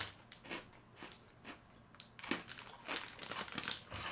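Someone eating crunchy Kruidnoten, small Dutch spiced cookies, with close, crisp crackling bites and crinkly chewing in irregular bursts, growing denser toward the end, with no talk.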